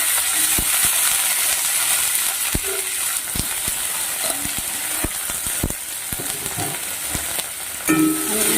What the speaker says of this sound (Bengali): তেলে ওই তেলেই কালো জিরে দিয়ে দিচ্ছি